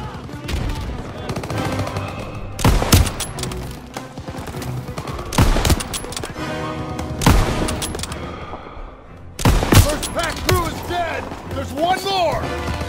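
Heavy bursts of automatic gunfire and loud shots in Call of Duty WW2, a World War II shooter game, repeated in several blasts over a busy battle soundscape with shouted voices and music.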